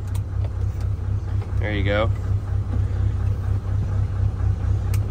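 A European semi truck's diesel engine rumbles low and steady throughout as it gets ready to pull away, with someone speaking briefly over the drone.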